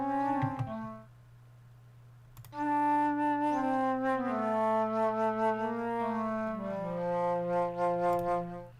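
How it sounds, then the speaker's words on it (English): Flute VST plugin in FL Studio plays a short phrase, pauses, then a longer sustained melody of clear, breathy tones stepping through several pitches. "Sure sounds like the flute to me."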